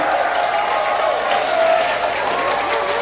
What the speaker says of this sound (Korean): 여러분의 큰 박수와 환호로 모시겠습니다